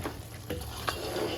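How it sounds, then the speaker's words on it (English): Palm nut soup gets a gentle stir in a cooking pot: a few soft scrapes and taps of a spoon against the pot over a low simmering bubble, quiet and close, with no talking. "I'm going to give it a gentle stir."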